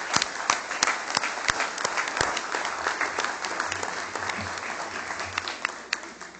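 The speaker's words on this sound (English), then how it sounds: "how about one more round of applause for everybody?" Audience applause closing a Rock Island, Illinois city council meeting, a dense, steady round of clapping from a crowd in a meeting hall, with scattered sharper individual claps standing out throughout.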